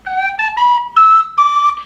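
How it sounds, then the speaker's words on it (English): A penny whistle plays a short run of about five clear, breathy notes stepping up and down in pitch, close and loud, with no voices. "So I got myself a little collection of penny whistles, and I found then I preferred this one"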